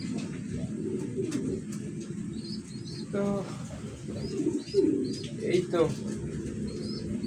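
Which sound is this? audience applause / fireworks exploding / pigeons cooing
pigeons cooing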